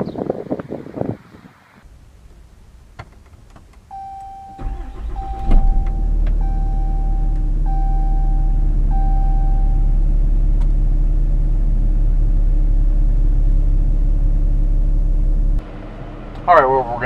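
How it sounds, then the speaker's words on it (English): A 2013 Ram 3500 Laramie Longhorn pickup truck starts up during a test drive: a few clicks and a chime, then a deep steady engine idle rumble that holds for about ten seconds before dropping off, heard from inside the cab. "today we're going to take a quick test drive video in this 2013 Ram 3500 Laramie Longhorn."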